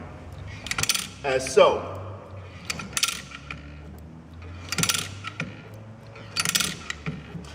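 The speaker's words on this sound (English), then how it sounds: "it needs us to crank it down" Aircraft dolly jack being cranked down, a series of metallic clicks, clanks and ratcheting knocks in irregular bursts, close by, with someone talking in between.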